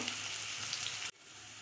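Finely chopped large onion fries in oil over black cumin seeds, a close, even sizzle that holds steady and then cuts off abruptly, leaving near silence.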